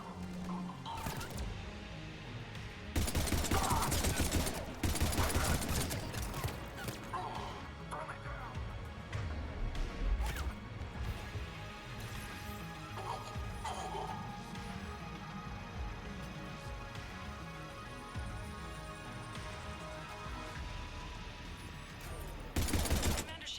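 Gunfire in Mass Effect 3, bursts of loud rapid shots and impacts that come and go in clusters among quieter combat ambience, with no voices over them.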